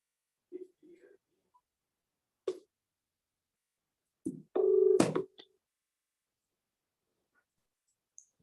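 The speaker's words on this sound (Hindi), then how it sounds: "आपको फोन करके मैं फोन ऑन कर लेता हूँ" A telephone being dialed for a call: a few short, separate beeps and clicks, then a brief tone, spread out against near silence.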